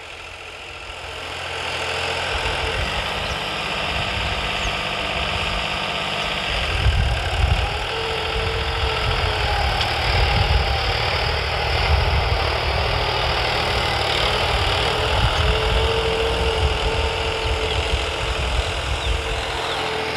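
A turbocharged New Holland 3630 diesel tractor engine runs steadily at close range, a loud low rumble that swells and knocks a little heavier partway through, with no talk.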